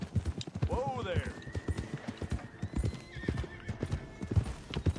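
A horse in the Red Dead Redemption 2 video game gallops with steady clip-clop hoofbeats throughout and gives one clear whinnying neigh early on, while a person talks over the game sounds.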